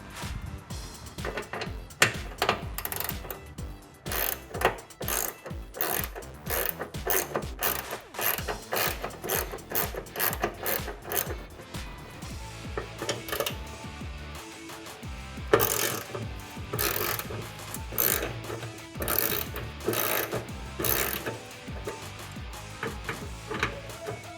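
A ratchet loosens the grille bolts on a 2006-2008 RAM 1500 pickup, with rapid, loud clicking bursts of pawl ratcheting repeated throughout and short pauses between strokes.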